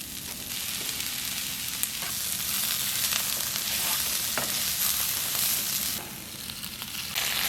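Seasoned vegan protein pieces sear in a hot pan, a steady close sizzle with occasional stirring scrapes and a brief dip before the hiss picks back up.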